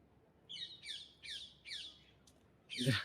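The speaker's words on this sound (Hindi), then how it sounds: "कोयल का आवाज भी आ रहा है।" Asian koel calling outdoors on a hospital campus: four rising whistled calls in a steady rhythm, fairly close and clear over a quiet background, followed by a louder burst near the end.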